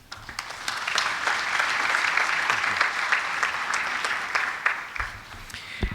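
Audience clapping at a commemoration conference in Nairobi, rising quickly into steady, moderately loud applause that holds for several seconds before thinning at the end.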